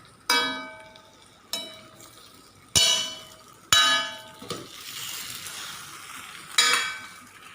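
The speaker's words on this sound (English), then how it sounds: "Let's mix it." Chopped potatoes are stirred in a metal cooking pan. Loud, close metallic clangs ring out about five times at an uneven pace, each decaying, with a faint sizzle and scraping between them.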